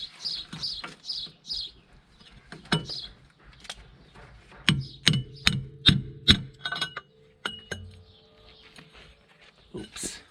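Sharp metallic strikes of a hammer on a pipe driving out an old front wheel bearing on a Mercedes CLK W208, a series of ringing clanks in quick succession with a person talking between them.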